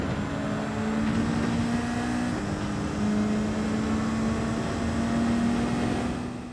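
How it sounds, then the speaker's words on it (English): In-game car engine from Gran Turismo 7 with a nitrous rush, a steady droning engine tone with slowly shifting pitch that holds throughout at moderate loudness, with no talking. "Upgrades will change the way your car sounds too"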